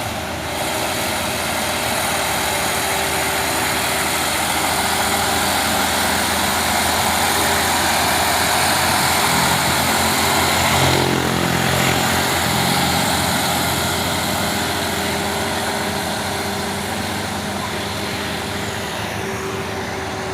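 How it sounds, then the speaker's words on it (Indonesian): An Isuzu tanker truck loaded with crude palm oil climbs a steep uphill road, its engine straining in a loud, steady drone that holds for the whole stretch, with no voices. "Dan ini satu unit truk tangki Isuzu yang bermuatan CPO."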